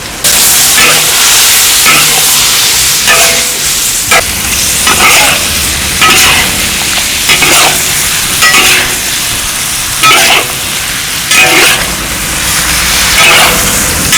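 Shallot bulbs and cured pork stir-fried in a wok: a loud, steady sizzle with repeated scraping stirs at an irregular rhythm, close by, with no talk over it.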